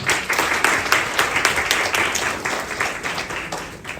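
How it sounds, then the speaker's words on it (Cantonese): An audience at a Hong Kong sharing event applauds as a guest is welcomed, a brisk burst of many hands clapping close by that gradually fades over about four seconds. "第一個 Teresa 會長，俾掌聲唔該"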